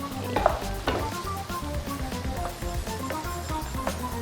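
Meat sizzles and crackles as it sautés in a pan for a Filipino offal dish, with a few sharp scraping stirs early on over the steady frying hiss.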